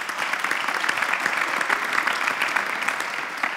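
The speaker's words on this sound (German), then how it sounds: "Auch das ist nochmal ein doppelter Applaus." Audience at a Smart Germany panel discussion applauds in a dense, continuous patter of many hands, steady and even throughout without a break.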